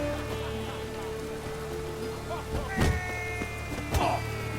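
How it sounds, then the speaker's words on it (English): Steady rain patters on surfaces in The Witcher 3, a continuous hiss with a couple of dull thuds partway through, while a voice speaks faintly underneath. "raining again"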